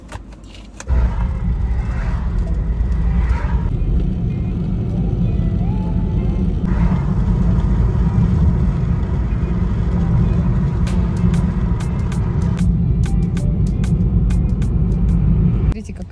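A car bumps along a rough country road through fields, with a loud continuous rumble and scattered rattles and clatters, while someone talks over it.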